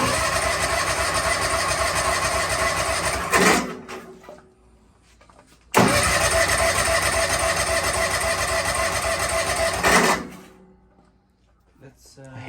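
DR field and brush mower with a burned-out engine, cranked twice with the linkage disconnected and in neutral; each attempt gives a loud, harsh mechanical churning for several seconds before cutting off, separated by a quiet pause.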